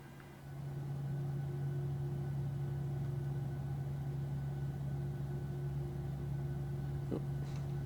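The second engine of a PMDG 737-800 in Microsoft Flight Simulator spools up, a faint, steady low turbine drone and hum building over the first second, then holding level.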